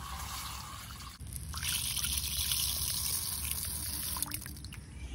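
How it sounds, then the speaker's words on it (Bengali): Water trickles and pours steadily into a bowl of pigeon pea dal to soak it, a continuous splashing stream close by with no talk. "অড়লের ডালটা জলে ভিজিয়ে দেবো"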